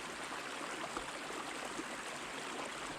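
A river at McGee Creek State Park makes a steady, broad rush of flowing water close by, even and continuous throughout, with no voices.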